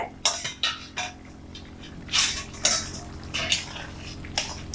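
Metal lid lifted off a pot of simmering ghugni, a string of close clinks and scrapes with short rattling bursts, sounding alone at moderate volume.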